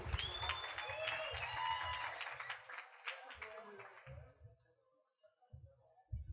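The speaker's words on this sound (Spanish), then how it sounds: "Fuerte el aplauso para Alexis y Esaú." Audience applause at a live comedy show, with clapping and crowd noise building loudly over several seconds under a talking voice, then fading to scattered bursts toward the end.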